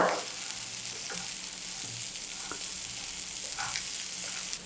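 Potatoes and peas fry in a kadai, giving a close, continuous crackling sizzle with a few soft stirring knocks, steady and unbroken for a few seconds without speech.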